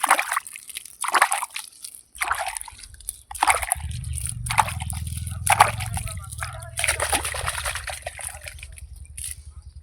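Water poured or sprinkled over leafy greens in a home garden, with intermittent splashing and sloshing bursts and a low steady flow running through the middle, while a person talks close by.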